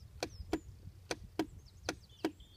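Starter on a farm vehicle clicking when start is pressed, six sharp dry clicks at a steady, somewhat uneven pace, fairly close, with faint background hum and no voices.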